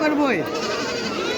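Goats bleating at the Taherpur goat market, with one close, wavering bleat that rises and falls over a busy background hum.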